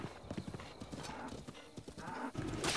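A horse gallops in the video game Breath of the Wild, with rapid, rhythmic hoofbeats up close and steady background game sound.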